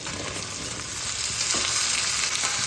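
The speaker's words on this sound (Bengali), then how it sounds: "কচুটাকে একটু আমি একটু ভাজা করে নেব।" Pieces of taro sizzle steadily in a pan of oil with fried onion and tomato, a dense continuous crackle that grows slightly louder, with no voices.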